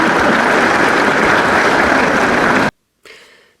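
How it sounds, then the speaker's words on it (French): Audience applause, a dense steady wash of clapping from many hands, loud and continuous, then cutting off abruptly into a short quieter burst of clapping that fades. "Ben pour ça, vous allez tous l'applaudir."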